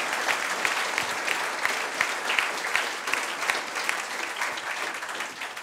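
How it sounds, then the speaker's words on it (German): Audience applause at an evening event with director Wim Wenders in the German Film Museum, a dense, steady clapping from a sizeable crowd that carries on throughout and fades slightly toward the end. "da kann man auch mal klatschen, wenn ein Film sowas bewirken kann"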